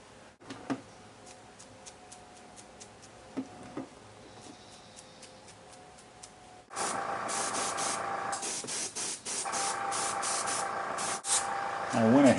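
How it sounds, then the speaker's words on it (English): Matte finish sprayed from a can onto a painted 1/4 scale head: a quiet stretch of faint ticks and handling, then loud, close hissing bursts with brief pauses between them. "I went ahead and sprayed them with some more matte finish"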